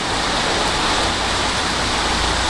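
Steady, dense rain pours down during a London storm, a continuous broadband hiss with no breaks, close and fairly loud throughout.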